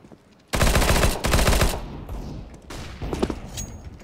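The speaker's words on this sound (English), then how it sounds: "They're still shooting at me through the fucking smoke, though." Enemy players fire through smoke in Counter-Strike: Global Offensive. A loud, close burst of rapid automatic gunfire starts suddenly and lasts about a second, then scattered, fainter shots and clatter follow.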